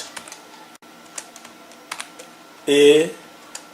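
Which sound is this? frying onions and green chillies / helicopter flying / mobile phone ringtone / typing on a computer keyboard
typing on a computer keyboard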